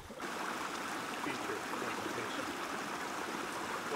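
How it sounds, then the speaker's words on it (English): A roaring river near Grotto Falls, a steady, dense rush of water filling the whole clip without pause, heard close and continuous with no voices. "The roaring river."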